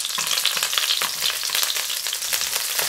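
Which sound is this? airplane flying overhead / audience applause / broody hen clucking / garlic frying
garlic frying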